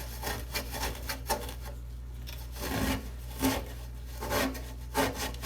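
A Scotch-Brite pad scrubs a part from a 1965 Mustang fuel gauge repair, making rough, uneven rubbing strokes in bursts, close up and fairly quiet with short pauses between passes.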